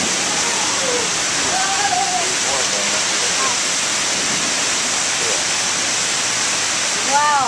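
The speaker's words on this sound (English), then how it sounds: "Camera doesn't even catch all the rain." A heavy rainstorm pours down onto a flooding street, a loud dense steady roar of falling water with faint splashes and chirps underneath, continuous throughout.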